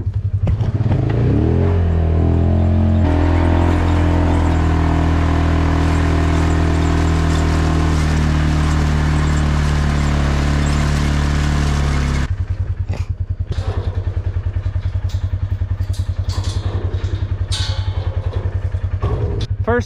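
Engine of an ATV moving calves between pastures, a loud steady engine drone with a rising rev in the first seconds, then holding strong before dropping to a rougher idling rumble for the final stretch, with faint voices at times.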